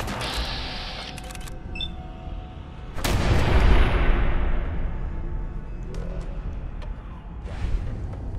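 Gunfire in the video game Fallout 4, sharp shots with one heavy booming blast near the middle and scattered cracks later, loud over a constant background rumble.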